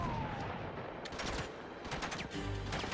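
Gunfire in Uncharted 3: Drake's Deception, in the Citadel, crackles as a dense run of sharp shots and bursts across three seconds, steady and moderately loud with no talking over it.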